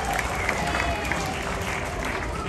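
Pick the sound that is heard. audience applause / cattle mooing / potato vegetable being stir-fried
audience applause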